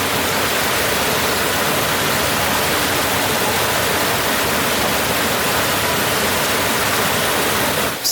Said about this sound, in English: go over to the waterfall